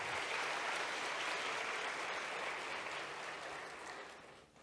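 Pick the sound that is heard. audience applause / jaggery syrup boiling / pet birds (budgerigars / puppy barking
audience applause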